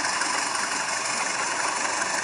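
A train's air-conditioning unit mounted under the carriage, on a Joglosemar Kerto service on the Purwokerto–Kroya–Gombong line, giving a loud, steady mechanical whir and hiss that holds constant throughout with no talking.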